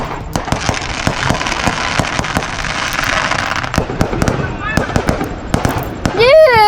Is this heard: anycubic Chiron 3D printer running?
no